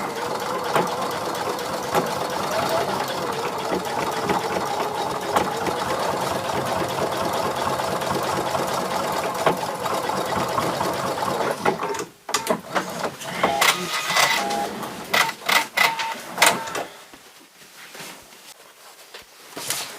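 A sewing machine stitching a round purse runs in a steady, rapid mechanical whir for about twelve seconds, then stops, followed by clicks, rustling and handling noises.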